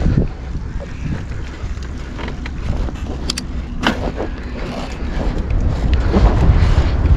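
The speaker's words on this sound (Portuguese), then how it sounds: "Olha o vento, rapaziada." Steady, heavy wind roars across the microphone during a motorcycle ride on a bike missing its front wheel, broadband and continuous and swelling slightly toward the end.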